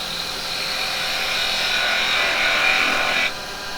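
Yew hammer handle spinning on a lathe while a gouge rolls the wood round, a continuous close rasping cut that swells slightly then stops abruptly near the end, no talking.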